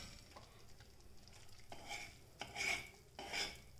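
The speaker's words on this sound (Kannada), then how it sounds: "ಇದು ಸ್ವಲ್ಪ ಬ್ರೌನ್ ಕಲರ್ ಬರೋವರೆಗೂ ನೀವು ಇದನ್ನು ಈ ಥರ ಹುರ್ಕೊಳ್ತಾ ಇರಿ" Mysore pak mixture is stirred and roasted in a pan, with soft scraping strokes and faint sizzling that swell into a few louder stirring passes near the end, heard alone.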